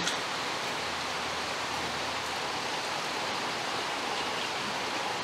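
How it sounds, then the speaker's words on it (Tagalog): Steady, dense hiss of rain falling continuously, even and unbroken, with no voices. "Wala pa rin pong tigil yung ulan."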